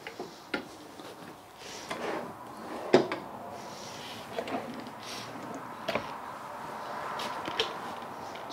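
A few scattered knocks and slides as a kitchen drawer in a 2018 Heartland Bighorn Traveler 32 RS fifth wheel is pulled open and pushed shut, with light clatter between, nearby in a quiet room.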